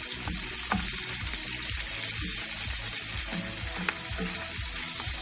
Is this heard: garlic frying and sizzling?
yes